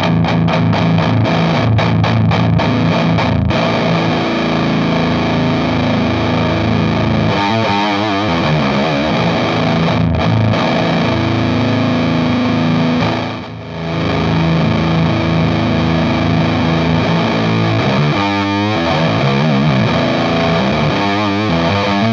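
Bass guitar played through a Comodoro Rat bass distortion pedal set to high distortion, a loud, dense, fuzzy sustained tone with repeated picked notes and held chords, steady throughout with one brief dip midway.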